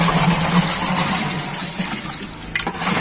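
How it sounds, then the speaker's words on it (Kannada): Water pours into a Yashina 8 kg washing machine as it is filled from pots, a loud continuous gushing rush with a steady hiss, ending in a few splashy bursts, with no talking. "ಈಗ ನೀರನ್ನು ಹಾಕ್ತಾ ಇರ್ತಾರೆ ಸೊ ನಮ್ಮ ಯಶಿನಾ ವಾಷಿಂಗ್ ಮಿಷಿನ್ಗೆ"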